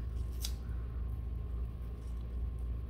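Scissors snip once at home through layered hair, a single sharp, close cut over a low steady hum.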